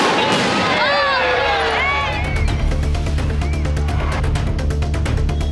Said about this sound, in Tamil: இரவு நேரத்தில் வண்ணமயமான பட்டாசுகளோடு அதிரடியான வான வேடிக்கைகள் நிகழ்த்தப்பட்டன